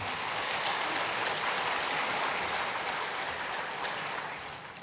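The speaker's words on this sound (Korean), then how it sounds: "잠깐 차례에서 일어나실 때 큰 박수로 환영하겠습니다" A church congregation at a Sunday worship service applauds to welcome a visiting former vice-governor, a dense, steady wash of clapping that fills the room and eases off slightly at the very end.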